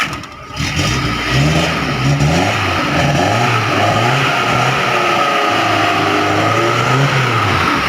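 A 1994 Suzuki Katana DX car engine is revved repeatedly, close and loud, rising and falling in a series of throttle blips over a steady idle, alone without talk.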